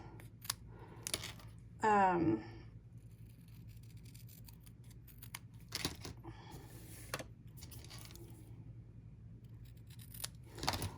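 Hand scissors snipping through paper cardstock while making a Halloween card: a single short, crisp cut in a quiet room, with a voice speaking softly around it.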